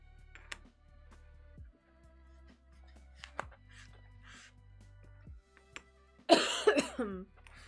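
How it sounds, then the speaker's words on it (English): A single harsh, loud cough bursts out near the end after a stretch of quiet background sounds and faint tones. "I'm sorry for coughing in your ear."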